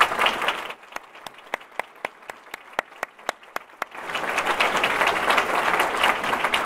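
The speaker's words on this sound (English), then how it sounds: "Please give them a round of applause." Audience applause at a university Hall of Fame evening honoring a former president and his wife: a burst of crowd clapping, then a stretch of sparse, evenly spaced individual claps, before the full applause swells back up.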